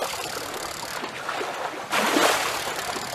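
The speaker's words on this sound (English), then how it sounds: "We'll do the little splashes." Small splashes of a fishing line and lure in water in a fishing video game set on the US West waters, a soft watery trickle that swells into a brief louder splash near the end.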